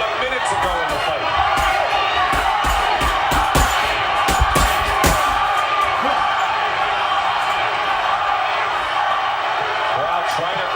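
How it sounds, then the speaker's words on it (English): A boxing crowd roars steadily to urge on Tommy Hearns in the closing minute of his fight against Barkley. The loud, continuous cheering has sharp shouts and thumps through the first half. "Crowd trying to urge on Tommy Hearns for one last moment here."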